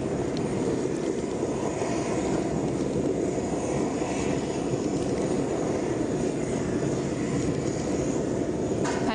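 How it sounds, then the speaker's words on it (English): Jet airliner carrying Pope Francis departing Jackson's International Airport in Papua New Guinea, a steady broadband engine roar heard at a distance and holding even throughout, with no talk over it. "As the plane prepares to leave now"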